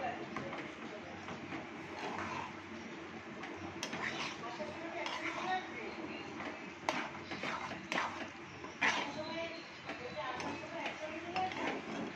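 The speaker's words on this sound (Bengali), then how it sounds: "মশলাগুলো ভালো করে মিশিয়ে নিই" Spices being stirred and mixed in a cooking pot for a ghee-free muri ghonto with fish heads, giving a steady run of soft scraping and clinking of a utensil against the pot under continuous nearby talk.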